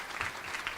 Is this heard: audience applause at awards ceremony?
yes